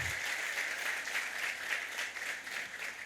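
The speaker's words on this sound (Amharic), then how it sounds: "አጨብጭቡላቸው" Audience applause at an indoor sales event for care managers, a dense, even wash of many hands clapping at moderate distance, sustained throughout without any talking.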